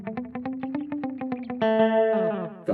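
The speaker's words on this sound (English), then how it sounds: "and then your sort of delay sort of sounds" Guitar run through a delay effect pedal, a quick series of plucked repeated notes followed by a sustained ringing chord whose echoes trail away, loud and close with no talking.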